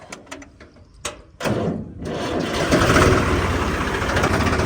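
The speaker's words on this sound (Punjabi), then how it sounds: "ਆਏ ਬਾਈਕ ਤੇ ਸੀ ਤੇ ਜਾਣਾ ਟਰੈਕਟਰ ਤੇ ਪਊਗਾ" A tractor engine turns over after a few clicks and knocks, then catches with a loud rush and settles into a steady, rumbling idle close by.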